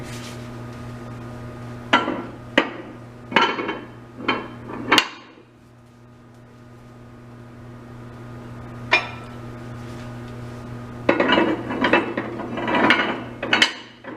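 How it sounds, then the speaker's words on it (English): Metal weights in a beam displacement lab experiment are lifted off hangers in a series of sharp clanks and clinks, several grouped at the start and more toward the end, separated by a quiet pause. "now remove another 20 pounds from each hanger"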